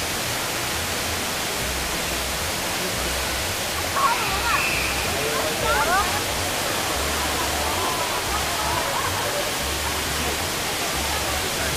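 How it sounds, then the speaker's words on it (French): Indoor waterfall inside Singapore's airport, a steady, broad rushing roar of falling water that fills the whole space without pause, with brief faint voices and chirps surfacing midway. "il y a bien une cascade en plein milieu de l'aéroport"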